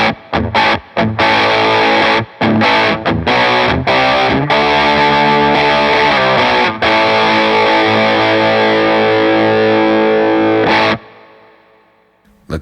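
An electric guitar plays through heavy fuzz distortion from a Line 6 POD Go with a little reverb, choppy stabs giving way to sustained chords, loud and close, then fades out into a reverb tail.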